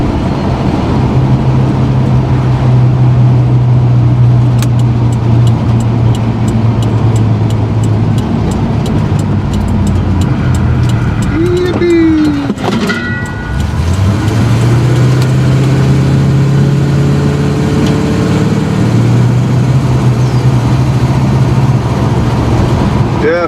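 A square body truck engine drones loud and close through its exhaust while driving, with a steady low rumble that dips briefly mid-way as it shifts, then climbs again into a sustained hum with rattles over it.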